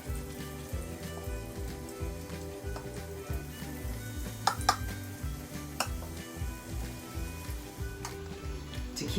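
Potato latkes frying in hot oil, a soft steady sizzle with scattered faint crackles and ticks, fairly quiet and close, over a low background hum.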